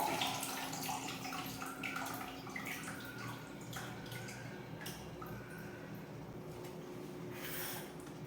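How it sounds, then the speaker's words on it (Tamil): Tamarind water is poured into a cooking pot while an Onam dish is prepared, a steady, fairly quiet trickle and splash that runs throughout with no talking. "இப்போ நம்ம வந்து இனி புளி கரைச்சி விட்டுக்கலாம்."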